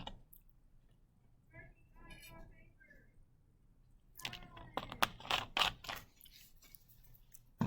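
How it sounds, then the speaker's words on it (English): Students tap on calculator keys in a classroom, quiet scattered clicks at first, then a denser run of loud, close taps in the second half. "Anybody still typing that needs a minute?"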